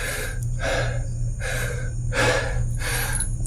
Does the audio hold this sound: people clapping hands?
no